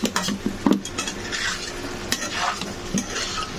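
Potato pieces frying in oil in a pan, a continuous close sizzle broken by clinks and scrapes of a metal spoon stirring against the cookware.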